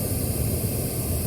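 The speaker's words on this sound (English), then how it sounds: "And we got some pink noise playing." Pink noise test signal played loud through Harley-Davidson motorcycle radio speakers during audio tuning, a steady, dense, unchanging hiss with a heavy bass rumble and no pauses.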